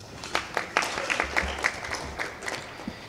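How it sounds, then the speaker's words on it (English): Sparse, scattered clapping from a graduation ceremony audience, a few hands at a time rather than a full ovation, moderately distant with a low background hum. "So give yourselves a round of applause, please."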